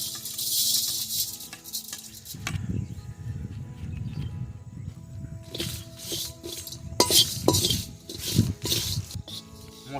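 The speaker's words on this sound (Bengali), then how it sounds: "মশলাগুলো খুব সুন্দর করে ভাজা হচ্ছে" Dried red chilli and other whole spices dry-roast in a pan for aloo kabli masala in a village kitchen, giving off light clinks, rattles and scraping stirs over a soft crackling patter.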